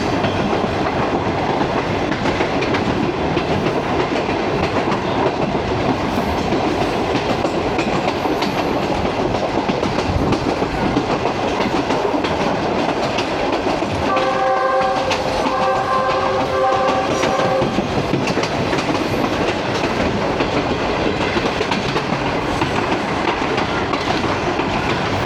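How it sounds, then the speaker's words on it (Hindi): The Bulleh Shah Passenger train on the Lahore–Kasur–Pakpattan line runs along the tracks with a loud, steady rumble and wheel clatter close by, and a horn sounds in the middle. "सिर्फ ट्रैक साउंड्स के लिए।"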